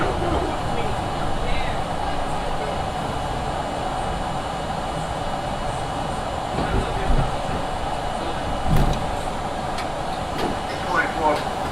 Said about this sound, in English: Edgemere, Brooklyn Bound A train